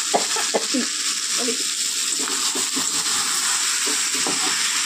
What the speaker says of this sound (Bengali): এবার আমি গ্যাসটা আস্তে করে দিয়ে বাকি 40 মিনিট কষিয়ে নেব।